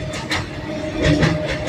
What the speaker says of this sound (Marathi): ट्रेन चालू आहे